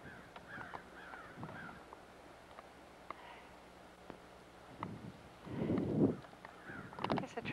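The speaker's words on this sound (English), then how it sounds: "A bird, though." A crow caws outdoors during the 1999 Indiana blizzard, a few short calls spread across the scene over steady wind noise, with a louder gusty rush near the end.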